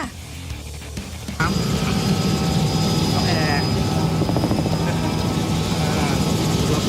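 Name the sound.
helicopter in flight, heard from on board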